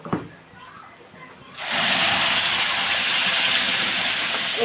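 Spices and garlic tempering in hot oil for a gongura dal, with a sudden loud, steady sizzle that bursts in after a quiet start and keeps hissing close up to the end.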